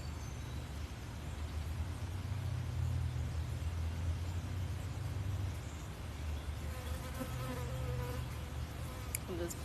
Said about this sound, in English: This big giant fly next to my head.